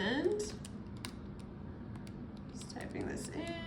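Numbers are keyed into a calculator while working out a molar mass for iodide, a quick run of soft, close plastic key clicks with a quiet voice murmuring faintly underneath.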